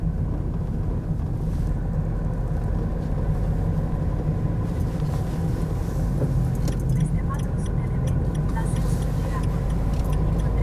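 Slow bumper-to-bumper car traffic on a rainy town street in Scandinavia, heard from inside a van as a steady low engine and road rumble that carries on throughout, with voices faintly present.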